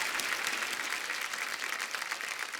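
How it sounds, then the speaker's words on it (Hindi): A studio audience gives loud, sustained applause for a song director, with an even, dense wash of clapping throughout. "जोरदार तालियां गुलाटी साहब के लिए"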